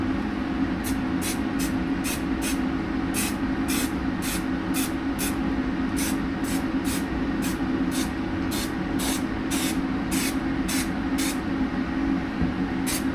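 Contact adhesive sprays through a nozzle while cosplay armour straps are assembled, in a series of short, regularly spaced hissing bursts over a steady background hum.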